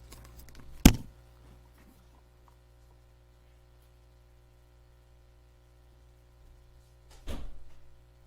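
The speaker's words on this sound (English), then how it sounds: "I closed and locked the door." A door in a quiet indoor room is shut and locked: one sharp, close bang near the start, then a softer, longer bump and rattle several seconds later, over a low steady hum.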